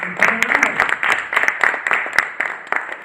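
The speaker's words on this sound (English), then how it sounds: "Give yourselves a round of applause for coming out." Crowd applause at an interpretive dance comedy show held in an old mill in Cambridge, a dense steady patter of many hands clapping close by for about three seconds with no talk over it.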